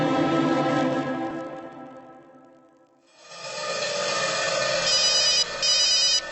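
A telephone rings on and on with no one answering, a loud, steady electronic ring that dips briefly near the middle before resuming just as strongly, with no voices.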